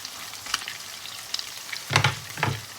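A pork omelette fries in a pan with a soft, close sizzle and a few brief crackling bursts near the end, and no talking.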